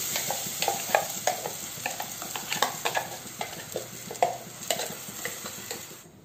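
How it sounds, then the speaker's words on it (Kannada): Banana stem fries in a pan with ground masala, sizzling steadily while a spoon scrapes and clinks against the pan in a quick, irregular stirring rhythm, close and fairly quiet, with no voices. "ನೋಡಿ ಈ ಥರ ಫ್ರೈ ಆದರೆ ಸಾಕು."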